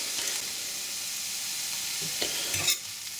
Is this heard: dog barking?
no